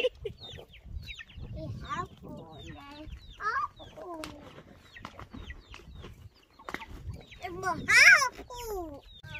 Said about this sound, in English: The chickens are already coming to inspect the work.